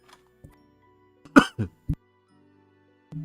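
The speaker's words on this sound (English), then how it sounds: "Sorry, I coughed and then unmuted, and I kept coughing." A few short, sharp coughs close together, near the mic, in an otherwise quiet room.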